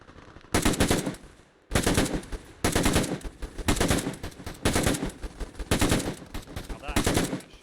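A squad opening fire together in Arma 3, with rapid overlapping rifle and machine-gun bursts repeating in loud volleys separated by short gaps.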